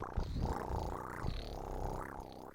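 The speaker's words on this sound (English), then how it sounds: "Now he's here fucking purring so loud." A close, rumbling cat purr, steady and rhythmic, continuing throughout without a break.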